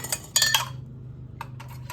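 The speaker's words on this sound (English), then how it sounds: "Gonna add my ring. Spin that on there, finger tight." A metal canning ring spun onto a glass jar of strawberry pie filling, heard as a quick run of close scraping clinks, a pause, then a few more short metallic ticks over a faint hum.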